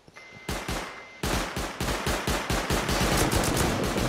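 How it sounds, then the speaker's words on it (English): Rapid bursts of automatic gunfire in a raid shooter game, close and loud, starting with a few isolated shots and then rattling continuously in a dense, steady stream. "Where am I getting shot from?"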